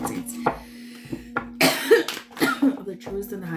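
A person coughs repeatedly, with sharp, close bursts and throat clearing scattered irregularly among bits of voice.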